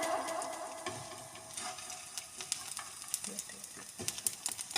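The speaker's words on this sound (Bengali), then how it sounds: "ফুলকলি পিঠা ভাজি করব।" Phulkoli pitha fries in hot oil, a fairly quiet, crackly sizzle with scattered sharp pops and ticks that grow more frequent toward the end, without speech.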